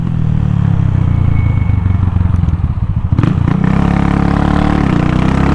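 Champion 150cc motorcycle with a muffler, running loud and close with a steady low engine drone, a brief clatter midway, then the revs settling into a smoother hum.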